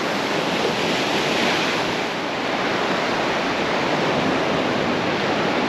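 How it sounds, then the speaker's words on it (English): Heavy ocean swell surges and washes over exposed rocks in a continuous, loud roar of broadband surf noise with no pauses and no voices. "That swell is just surging today. It's just sucked out before the next huge wave comes in."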